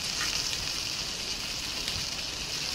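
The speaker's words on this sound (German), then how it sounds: "würde mich so voll nerven, wenn neben mir einer grillt" Steady sizzling of food grilling in a pan in the survival game Palworld, a continuous even hiss and crackle with no pauses and no talk.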